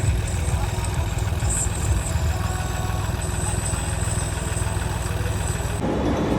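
A tractor engine idles steadily up close, a constant low rumbling chug with no voices, cutting off abruptly near the end.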